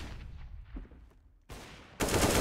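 Rifle fire from an unsilenced M4 in the video game CS:GO during a professional esports match on the Cache map: a few quiet distant shots, then sudden loud bursts of close automatic fire.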